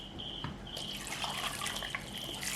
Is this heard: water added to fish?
yes